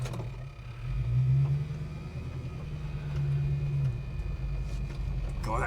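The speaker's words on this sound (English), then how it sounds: "God, that coil's just buzzing its head off." Ignition coil buzzing on a running Holden HK engine, a steady electrical whine riding over the low rumble of the idling motor, close and continuous throughout.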